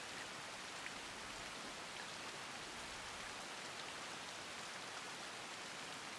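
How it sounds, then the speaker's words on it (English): Steady rain in the video game Assassin's Creed Shadows on PS5 Pro, an even, dense patter of drops on surfaces that holds at a constant level with no talking. "Let's sit in the rain."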